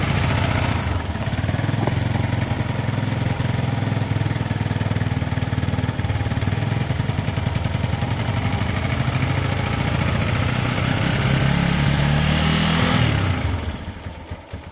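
A motorcycle engine idles steadily on choke, a loud, continuous close-up drone with an even rhythmic pulse throughout, dropping away in the last second or so.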